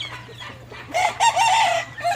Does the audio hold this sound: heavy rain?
no